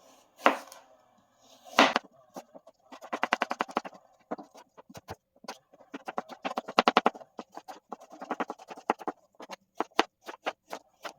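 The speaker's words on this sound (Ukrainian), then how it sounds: "Наріжемо яблучка невеличким кубиком." A knife chops apples into small cubes quickly on a cutting board, rapid bursts of sharp taps with brief pauses between runs, close and clear.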